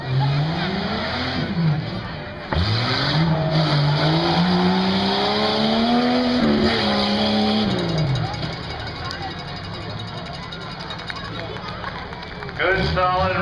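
A drag racing car makes a run at Buck Motorsports Park, its engine revving and climbing in pitch through repeated shifts, loud and sustained before fading into the background noise of the track.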